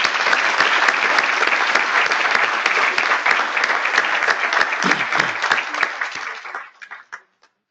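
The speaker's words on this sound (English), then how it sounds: "So let's do a big round of applause for the 14 honorable mentions." A large conference audience applauds at a plenary awards session, dense and sustained clapping from many hands that carries on steadily and then thins out into a few last scattered claps.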